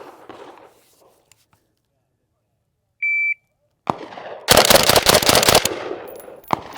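A Galil ARM rifle fires a rapid string of loud, close shots after a short electronic beep, with a few scattered shots before and after the burst.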